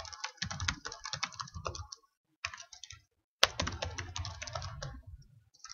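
Code being typed on a computer keyboard, close rapid key clatter in bursts broken by two brief pauses, no speech.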